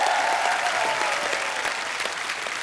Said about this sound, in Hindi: अजय सर के लिए और काजल मैम के लिए जोरदार तालियां।